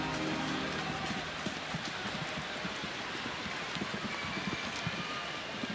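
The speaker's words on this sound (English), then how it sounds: "the rain is really starting to come down hard now" Heavy rain pours down at an outdoor major league baseball game between Seattle and Chicago, a steady dense hiss with scattered drops pattering close by throughout, and no voices.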